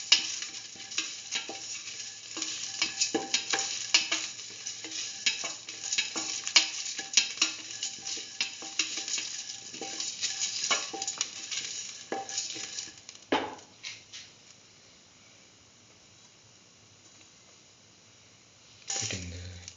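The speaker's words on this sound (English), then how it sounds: "Thoroughly saute mix." Chicken with curry and mustard sautéed in a pan, with continuous scraping stirs and steady sizzling for most of the stretch. Near the end the stirring thins out into quieter frying, then comes a brief final burst.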